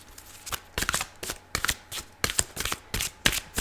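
Tarot cards being shuffled in a series of quick riffling bursts, about eight crisp flurries in a row, close and fairly quiet with no talking.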